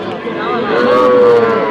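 Cattle lowing at a busy livestock market in Nawabganj, Dinajpur, a long drawn-out moo rising over a dense, steady crowd murmur close by.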